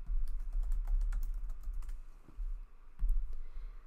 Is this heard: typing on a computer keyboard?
yes